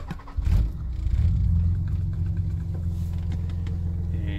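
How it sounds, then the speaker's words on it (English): A Nissan car engine cranks and catches, then settles into a low, steady idle rumble, heard up close with no talk. "So let me start the car."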